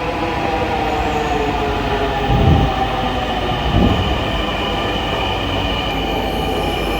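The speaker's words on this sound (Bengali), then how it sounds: "ট্রেন এসে পড়েছে" A metro train pulls into an elevated station, its loud steady rumble filling the air with a couple of brief swells and wheel screeches partway through, with no voices.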